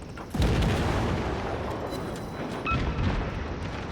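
Warship guns firing in World of Warships: a heavy deep boom opens, then a second blast follows a couple of seconds later, both rolling out over a rumbling sea-and-engine backdrop.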